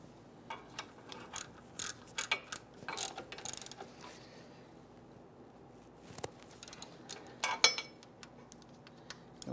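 A ratchet snugging down an engine torque strut mount bolt on a Ford Explorer, quick clicking bursts of the pawl coming in irregular spurts, close and moderately loud over a quiet background.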